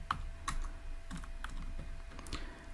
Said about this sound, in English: So I'm gonna type here count,